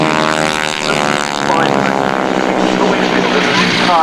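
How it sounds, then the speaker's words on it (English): Helicopters making a massed approach at an air show, a loud, continuous rotor and engine drone that holds steady and swells slightly as they close in. "massive approach of helicopters"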